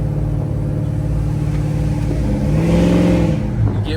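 A 1972 Oldsmobile Cutlass restomod with an LS3 V8 accelerates with a loud, steady, smooth engine drone that rises slightly in pitch toward the end, heard close from inside the car.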